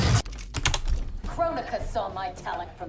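Clacky typing on a Corsair K63 keyboard, quick keystrokes rattling close by over a steady game soundtrack, with a voice talking throughout.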